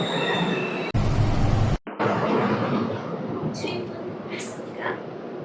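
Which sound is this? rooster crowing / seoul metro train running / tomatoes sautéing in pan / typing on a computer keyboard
seoul metro train running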